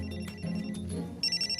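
A mobile phone rings in a classroom in a cartoon, with a short electronic ringtone melody of repeated bright tones against a faint background and no talking.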